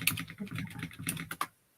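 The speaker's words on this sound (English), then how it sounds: "Oh, I can hear Andy typing." Keys tapped on a computer keyboard in quick, uneven bursts of clicks lasting under two seconds, moderately close and fairly quiet, with no voices, ending in a couple of sharper strokes before silence.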